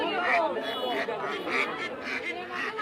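Home-raised domestic ducks quack at a rural poultry market, repeated nasal calls close by in an irregular rhythm over a busy, murmuring background.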